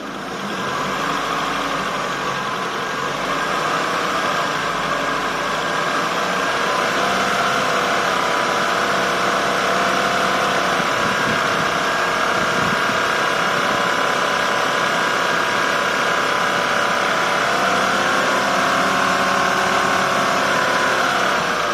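Chevrolet Aveo engine held at about 1,500 rpm while the air-conditioning compressor is recharged, a steady, loud, even mechanical hum running throughout without pauses or voices.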